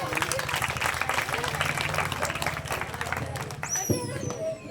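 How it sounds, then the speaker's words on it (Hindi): A crowd at a public event about economic empowerment for nomadic tribal communities applauds a speaker. Steady, fairly loud clapping is mixed with voices and a brief tonal sound near the end. "तो एक बार जोरदार तालियां"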